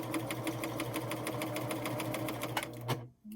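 Pfaff Admire Air 7000 sewing machine running steadily while sewing cording with a piping foot and cording guide, a fast even rhythmic hum close up, stopping abruptly at the end.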